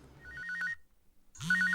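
Mobile phone ringtone with a rapid trilling electronic pattern, two bursts separated by a short gap, loud and close with no talk.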